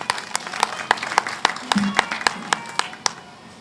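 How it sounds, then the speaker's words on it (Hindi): A small gathering at a village anniversary celebration claps in sparse, evenly spaced single claps, a few hands striking at a moderate tempo over low background noise and faint voices. "मैं चाहता हूं कि एक बार हम सभी जोरदार तालियां बजा सकते हैं।"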